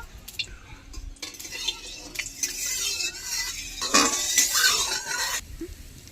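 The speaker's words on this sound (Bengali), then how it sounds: "কড়াইয়ের তেল গরম হয়ে গেছে এবার লবণ হলুদ মাখানো চিংড়ি মাছগুলি লাল লাল করে ভেজে নেব" Salted, turmeric-coated prawns drop into hot oil in a wok and sizzle steadily, while a utensil scrapes and clinks against the pan.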